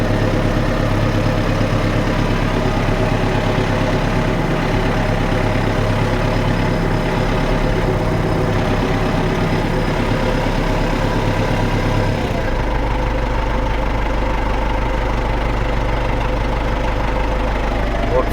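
An MTZ tractor diesel engine runs after two cylinder liners were replaced, idling steadily and loud throughout with a deep low rumble and a slight shift in tone partway through; voices talk faintly under it.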